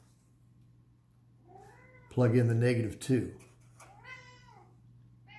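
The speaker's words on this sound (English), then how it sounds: "Can you hear my cat meowing?" A pet cat meows indoors during a home math lesson: a short meow comes before someone speaks, then a louder, drawn-out meow follows, all over a steady electrical hum.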